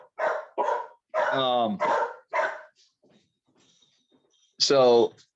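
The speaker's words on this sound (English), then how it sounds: "my dogs are going to bark" Several sharp, close dog barks in quick succession, then a pause with faint sounds and a final loud bark, mixed in with nearby talking.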